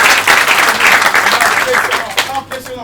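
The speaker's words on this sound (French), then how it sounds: "applaudissez pour lui." A live audience at a comedy stage show breaks into loud, dense applause, a sustained wash of clapping and crowd noise that tapers off near the end.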